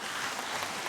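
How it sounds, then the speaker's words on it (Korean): Faint, dense applause from a church congregation, a brief continuous wash of clapping heard at a distance. "박수를 치려면 화끈하게 쳐라."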